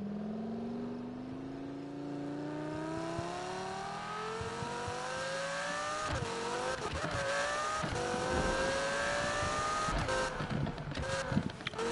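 A Lamborghini Huracan in a video game revs and accelerates with a rising engine whine that climbs through the gears, loud and close, with shifts and brief rough, crackling bursts later on.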